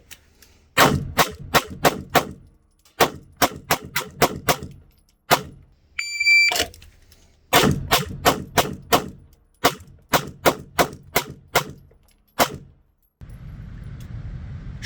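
Rapid strings of sharp gunshots crack out in bursts of four to six during a timed shooting drill, with short pauses between strings and a brief electronic timer beep partway through; loud and close, no talking.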